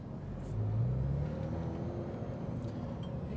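A GT3 race car rolls slowly up to a stop sign on the Las Vegas track, its engine a low steady rumble with a brief rise in pitch early on, then settling into an even, close drone.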